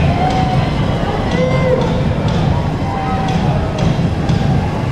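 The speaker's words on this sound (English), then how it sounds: "Crowd getting loud here at Broken Lake Field at Camplex" A football crowd at Broken Lake Field at Camplex in Wyoming roars steadily and loudly throughout, a dense continuous wall of cheering and noise with a commentator's voice over it.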